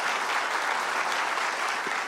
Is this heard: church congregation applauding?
yes